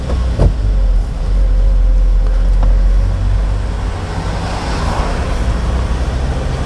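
A manual car on a 70 km/h road with the accelerator pressed in third gear, a steady close engine drone with low road roar, and a couple of brief knocks early on.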